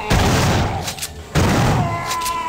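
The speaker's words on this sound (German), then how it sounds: "Drei Shotgun-Schüsse?" Shotgun blasts in the video game System Shock 2, loud booming discharges with a brief gap between them, heard alone without talk.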